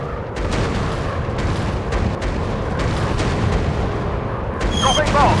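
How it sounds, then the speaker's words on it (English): Heavy booming bomb explosions and rumbling battle noise in Warplanes WW1 Sky Aces, sustained and loud with repeated thuds, mixed with gunfire and game voice callouts. "Dropping bombs! Target out of action! Bomb away!"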